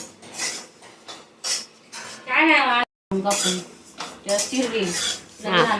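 Pots, pans and utensils clink and scrape while dishes are washed by hand, the clatter coming in repeated bursts mixed with conversation.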